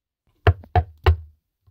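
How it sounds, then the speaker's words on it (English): Three firm knocks on a door, evenly spaced and close, each a sharp hollow thud, followed by silence. "you'd better answer that knock at your door"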